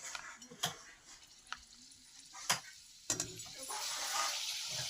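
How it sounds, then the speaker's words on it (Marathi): Papad frying in hot oil in a home kitchen, a steady sizzle that swells toward the end, broken by sharp clinks and taps of a utensil against the pan, close, with no talk. "आता मी याच्यात पापड तळून घेते"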